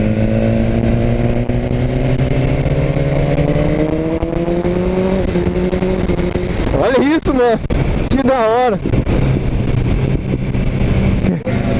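A BMW S1000 R motorcycle engine on a test ride climbs steadily in pitch, then revs up and down sharply through quick gear shifts, loud and close, with a rider's brief excited remark between revs.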